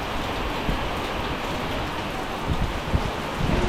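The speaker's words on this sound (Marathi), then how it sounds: "पाऊस बघा किती जोरात आहे ते" Heavy rain pours steadily outdoors at night during a strong downpour, a dense continuous wash of drops drumming on a shed roof and surfaces, close and loud throughout with no voices.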